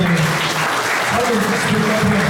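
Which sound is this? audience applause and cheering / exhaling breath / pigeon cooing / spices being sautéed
audience applause and cheering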